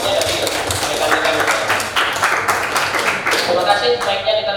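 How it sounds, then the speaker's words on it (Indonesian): Applause from a group of colleagues at a teacher-training session, a dense wash of clapping that holds steady for several seconds, with voices talking over it near the end. "tepuk tangan untuk refleksinya dari rekan-rekan"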